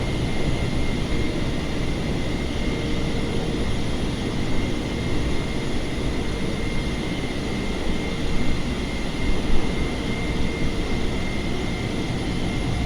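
A Singapore Airlines Boeing 747 lands in rain at Jeju Airport, heard as a steady, loud, broad roar of jet engines and rushing air that stays constant throughout.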